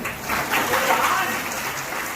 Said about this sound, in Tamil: அவருக்கு நல்லாவே கைதட்டுங்க